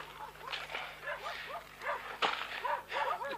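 Several dogs bark near a roadside during a 1983 armed attack, repeated yelping barks in quick bursts at middle distance, with a sharp knock partway through and faint background noise.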